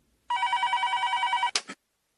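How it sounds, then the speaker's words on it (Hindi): An electronic telephone ring, a steady pulsing trill lasting over a second, cut off by a brief clatter. "अगो भाई, इतनी रात किसका फोन?"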